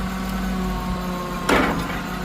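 A V6 engine idles at low revs on a homemade log splitter hitched to a small tractor, giving a steady low drone with one brief louder burst partway through.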